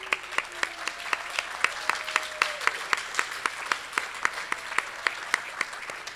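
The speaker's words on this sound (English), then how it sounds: "I hope that you will all join me in giving another wonderful round of applause" Audience applause at a student reading and creative arts event, a steady wash of hand clapping with distinct sharper claps standing out in a regular pattern, fairly close and sustained, with a faint voice briefly underneath.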